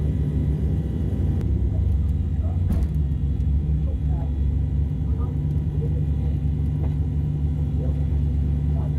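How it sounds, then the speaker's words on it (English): A nasty Fox body Mustang race car rumbles at the Orlando track, its engine a steady low drone throughout with no clear revving changes. "Looks like I'm racing a pretty nasty fox body"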